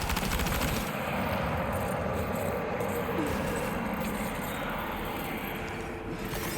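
Gunfire from a Death Stranding 2 firefight rattles in a rapid, steady burst under a dense background roar, loud and close the whole way through.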